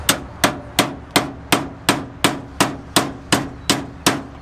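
A hammer strikes metal a dozen times in an even, brisk rhythm during a roadside repair on an abandoned C10 pickup truck. Each blow is loud and close and rings briefly.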